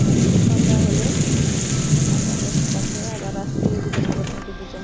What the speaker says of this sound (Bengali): বৃষ্টিটা একটু থেমে গিয়েছে এখন কিন্তু মেঘের গর্জন এখনও কমেনি মেঘ ডাকছে প্রচুর পরিমাণে